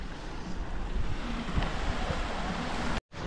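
Steady surf washing over Praia da Ferradura, a beach in Armação dos Búzios, Brazil, a continuous broad roar mixed with wind buffeting on the microphone, ending in a brief dropout.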